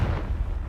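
Blasting Confringo spell from Hogwarts Legacy erupts in a dull, rumbling boom that stays heavy and steady for under a second, loud and close with no voices.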